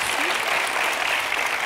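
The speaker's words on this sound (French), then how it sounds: "Des applaudissements chaleureux que vous méritez bien, Muriel, avec ce beau métier" A dense, steady burst of applause from an audience, many hands clapping at once with no pauses, loud and close.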